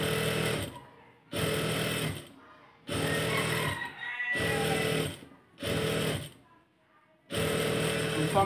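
A sewing machine stitches elastic onto a burqa sleeve in five loud, close bursts of rapid chattering, each lasting about a second, separated by short pauses with faint handling noise.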